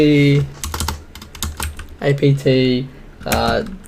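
Keys clatter on a computer keyboard as a command is typed at a terminal, in short irregular bursts of close, crisp clicks mixed with speech.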